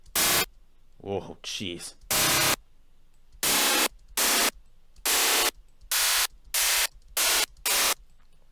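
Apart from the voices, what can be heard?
white noise synthesized in FL Studio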